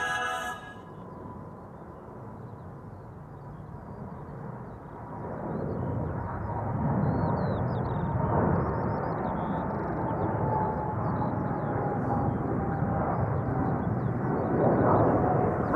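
A KLM airliner bound for Cape Town rolls down the runway and takes off at Amsterdam Schiphol, a distant engine roar swelling into a broad, steady rumble with a faint whine running through it.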